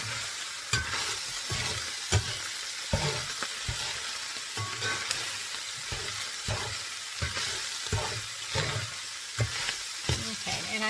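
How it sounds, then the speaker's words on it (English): Ground meat browning in a frying pan for spaghetti meat sauce, with a steady sizzle broken by regular scraping strokes of a spoon stirring it, close and fairly loud, with no talking. "So I'm going to turn off the heat and keep on stirring it up a little."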